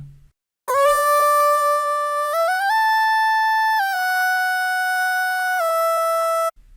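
Auto-tuned vocal pitched up two octaves, a thin, harsh, stepped melodic line held loud and steady for about six seconds after a short gap, with no talk.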